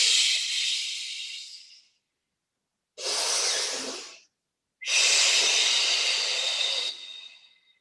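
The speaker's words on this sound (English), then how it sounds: "Listen to the breathing, breathe in to prepare" Steady breaths during a Pilates exercise for osteoporosis, three long airy exhales and inhales, close and clear with short silent pauses between them and no talking.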